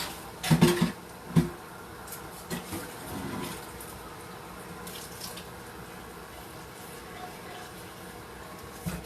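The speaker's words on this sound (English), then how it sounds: "Rinse it all off." A crock pot is rinsed out under a running tap in a kitchen sink, with a steady, moderate stream of water throughout, a few brief clatters and voices near the start, then continuous flow.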